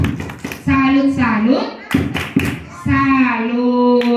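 A group of children at a primary school Maulid Nabi gathering chant the rhythmic 'tepuk salut' clapping routine, voices rising in sung phrases with claps and taps in short bursts, loud and close.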